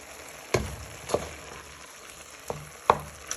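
Bacon and beef mince fry in a hot pan under a low steady sizzle, broken up with a wooden spoon that knocks and scrapes sharply against the pan about five times, close and fairly loud.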